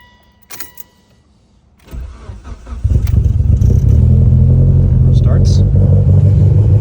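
A car with a failing fuel pressure regulator cranks briefly and then catches, settling into a loud, steady low engine rumble that holds to the end after a few faint clicks and knocks.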